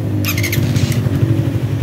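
Suzuki Raider 150 FI motorcycle, brand new, with a newly fitted horn after a blown-fuse problem: a quick electric starter whir, then the engine catching into a steady, close idle.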